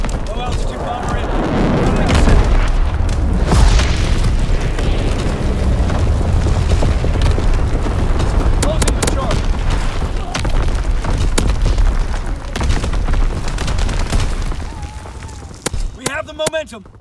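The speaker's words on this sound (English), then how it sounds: "Low altitude bomber in." Low-altitude bomber airstrike in Call of Duty: WWII, unleashing a long, loud barrage of heavy explosions and rumbling booms mixed with gunfire, continuous and close before tapering off near the end, with voices over the din.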